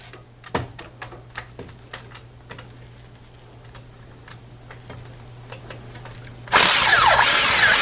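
On a Mercedes Sprinter during a transmission replacement, a power tool works the last bell housing bolt. Scattered clicks and taps come first over a low hum, then a sudden loud, sustained whirring drill sound takes over toward the end.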